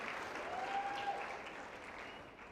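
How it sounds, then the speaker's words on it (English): Sustained applause for the graduating class of 2023 at a youth soccer club's senior night: a faint, even wash of clapping from a seated crowd, holding steady throughout. "give a long clap for the class"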